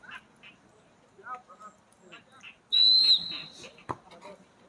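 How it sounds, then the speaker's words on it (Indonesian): A referee's long whistle ends the half of a friendly football match, one sustained shrill blast of about a second, partly masked by a commentator talking before and after it. "Peluit panjang sudah dibunyikan"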